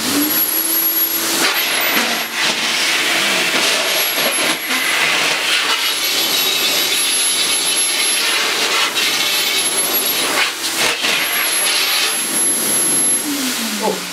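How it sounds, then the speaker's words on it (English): An Electrolux Dolphin 2200 vacuum cleaner nozzle blowing air: a loud, steady rush with a high whine, continuous and close, wavering slightly over its length. "this nozzle with a blowing action will ensure that all the dust is blown out"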